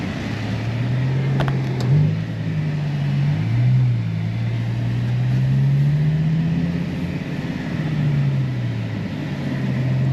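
A low-mileage CLK55 engine runs at a dealer-only auction, a loud, steady idle with a few gentle swells in pitch, close up and with no voices.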